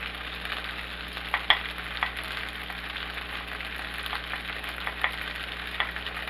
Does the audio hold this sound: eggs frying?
yes